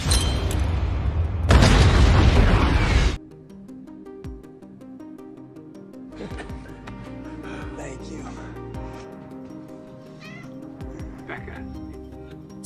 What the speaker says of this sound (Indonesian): lalu meledakkan ranjaunya tepat di depan wajah Yuli